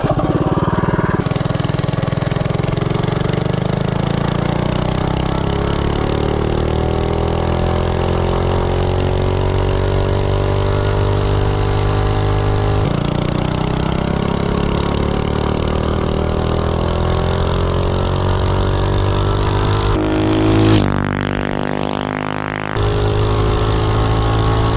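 A Predator Ghost small engine fitted with valve shims screams at top RPM, a loud, steady high-revving drone held for about twenty seconds, then briefly dipping and recovering near the end, with no voices.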